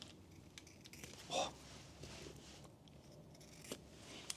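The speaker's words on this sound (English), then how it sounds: "Scissors. Look at this. We'll cut a little bit further than that." Scissors cut tape during a Honda 50 motorcycle repair, giving one crisp snip and a few faint clicks and rustles in a quiet room.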